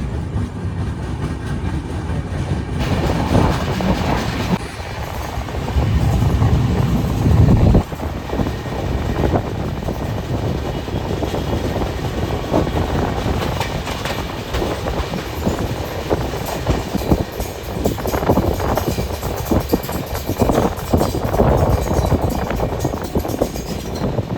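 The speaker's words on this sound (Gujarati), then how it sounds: "રેલવે સ્ટેશન 11:30 ગાડી પહોંચી છે રેણુગુંડાથી" A train from Renigunta rumbles loudly into a railway station, wheels clattering rhythmically over the rails, with heavy engine drone and occasional squeals, close and continuous.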